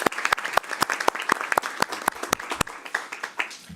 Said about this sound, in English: I will also ask a round of applause to Mr. Gosden to thank for his good service.